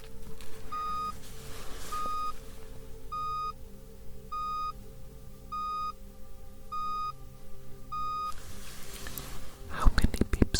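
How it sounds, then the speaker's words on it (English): Sets of short, evenly spaced electronic beeps play as a hearing test in an alien-themed ASMR roleplay, seven clear tones in a row, with soft whispering in the background. "I want you to count the total number of beeps and then to tell me the total number."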